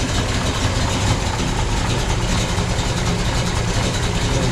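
The engine of a 1969 Chevrolet Chevelle SS idles steadily, a constant low rumbling drone heard up close without anyone talking.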